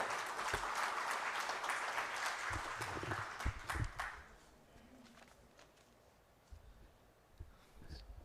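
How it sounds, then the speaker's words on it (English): A seminar audience applauds a speaker invited on stage, fairly faint clapping that fades after about four seconds into quiet room tone with a few scattered claps. "Please give him a big hand,"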